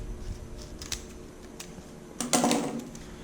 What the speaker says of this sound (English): take your scissors, and you're just going to clean up that edge.